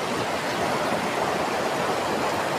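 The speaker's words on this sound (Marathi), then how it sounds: "हे निर्मळ पाणी असं खळखळ वाहत आहे ना" Clear freshwater stream in the Konkan countryside near Dapoli, flowing and gurgling in a steady, continuous wash of water with no voices over it.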